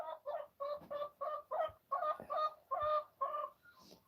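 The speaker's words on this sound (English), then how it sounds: "Let's watch some chickens for a bit." Chickens on a homestead clucking close by in a quick series of about a dozen evenly spaced, throaty notes, with a brief higher call at the end.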